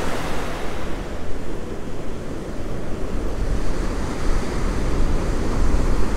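Steady wind and breaking surf roll along a beach where shrimp are used as live bait for fishing, a continuous loud wash of waves with gusting wind buffeting the microphone throughout, no voices present.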